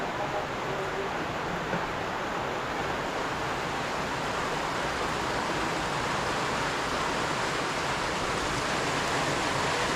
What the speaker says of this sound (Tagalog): Grabe, lakas ulan.